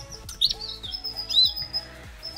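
Gloucester canaries with the mother feeding her young, several quick high chirps and tweets close by, with soft rustling in between and no talk.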